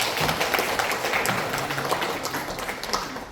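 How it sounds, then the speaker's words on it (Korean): Audience applause at a youth seminar in a National Assembly meeting room, a steady dense patter of many hands clapping throughout, fairly close and even in loudness. "저희는 너무 고마움을 좀 감사의 박수 한번."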